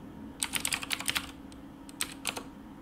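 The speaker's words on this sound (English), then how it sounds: "So you type in a console FFMPEG minus I," Computer keyboard typing at a console, a quick burst of close key clicks followed by a pause and a second shorter run of keystrokes, alone over a low steady hum.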